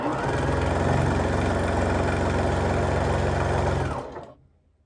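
A sewing machine stitches a quilt seam with a rapid, steady mechanical whirr and fast rhythmic needle pulses, close and loud for about four seconds, then stops and the sound fades out.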